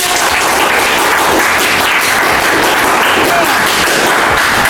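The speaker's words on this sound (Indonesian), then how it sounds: "kasih tepuk tangan" Classroom applause for a student group, a loud, dense and continuous clatter of many hands clapping at close range for several seconds with no pause.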